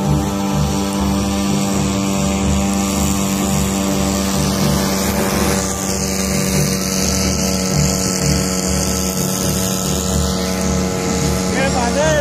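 A Razzle RC model airplane with a Magnum 120 engine flies overhead. Its steady, loud buzzing drone holds a constant pitch with only slight swells, and voices talk beneath it.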